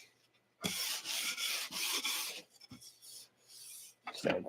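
Sandpaper rubbing back and forth on a wooden drawer: broad raspy strokes, close and fairly loud, in several bursts with short pauses between, no talking.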